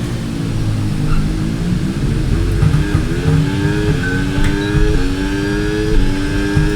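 A Formula 1 car engine in an F1 video game at Bahrain, loud and continuous, with the pitch stepping up through rising gear shifts alone and without talk.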